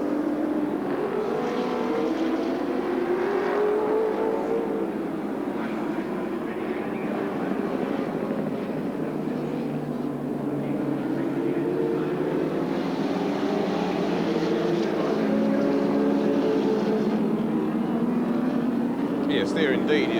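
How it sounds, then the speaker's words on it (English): Racing cars at the 1986 Castrol 500 at Sandown Park, including the Nissan Skyline Turbo team, make a continuous engine roar that rises and falls as cars pass, heard under race commentary. "Carter about to perhaps be lapped again by Seaton"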